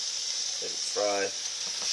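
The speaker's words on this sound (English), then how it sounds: "Let it fry" Steady, close sizzling hiss of food frying for a Cajun gravy, with a brief tonal squeak or voice-like sound in the middle.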